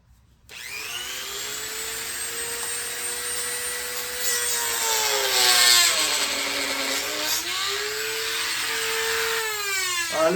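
Small drill grinding the metal ears off a fan on a Buick Grand National: a steady, close whine with pitch rising and falling as the bit bites, continuous for about ten seconds with no talk.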